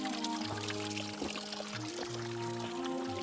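Spring water from a forest source in Kashmir near the Line of Control runs in a steady, continuous pouring flow close by, with layered tonal hums underneath and no voices.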